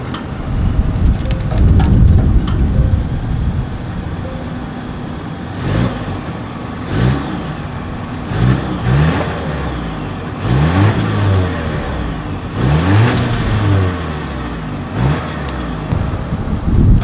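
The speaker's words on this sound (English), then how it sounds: "Here is that exhaust clip" A 2022 Volvo S60 midsize sedan's exhaust, heard as a low idle rumble broken by several short, repeated revs that swell and fall back, fairly close with no talking.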